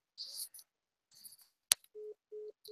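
A mobile phone rings twice with steady, moderately loud tone bursts near the end, after brief faint chatter and a sharp click.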